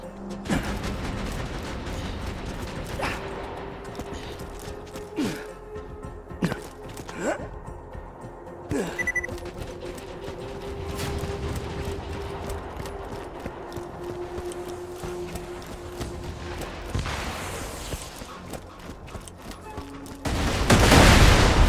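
Turret gunfire in the video game Borderlands 2 rattles in scattered bursts and single shots over a steady hum, mid-distance and moderately loud, with game sound effects around it.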